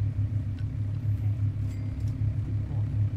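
A car in the video game Pumping Simulator 2 rumbles past at a gas station, a low engine drone rising and easing over a few seconds, with no talk.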